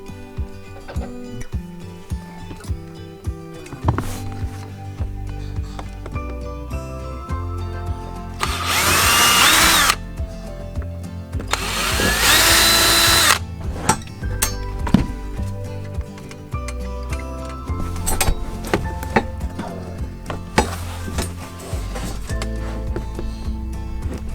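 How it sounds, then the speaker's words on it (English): A power drill with a 5/32 bit whirs in two long bursts as it bores in to mount a center console, surrounded by clicks, knocks and handling clatter close by. "I'm using a 5/32 drill bit"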